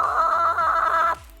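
A hen clucks in a steady stream of short, nasal calls for just over a second, close and clear, then stops abruptly with faint background noise left.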